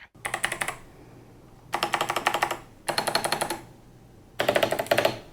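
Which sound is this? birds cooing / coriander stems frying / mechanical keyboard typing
mechanical keyboard typing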